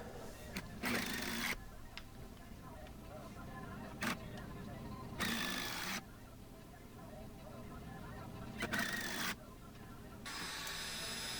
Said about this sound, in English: Put some screws in there, have to go get a couple more screws, lay that all out, and screw everything together.